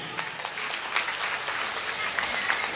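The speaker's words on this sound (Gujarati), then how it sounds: "જોરદાર તાળીઓથી વધાવીએ" Enthusiastic applause from an audience at a community honour ceremony for a temple gathering in Mumbai, dense continuous clapping with a few brief sharper claps standing out, loud and close throughout.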